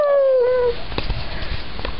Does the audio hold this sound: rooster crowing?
no